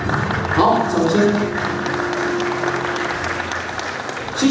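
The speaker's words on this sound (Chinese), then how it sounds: "好，掌声。" Sustained applause from an event audience at a charity pageant final, steady clapping filling the whole stretch with crowd noise and some voices mixed in.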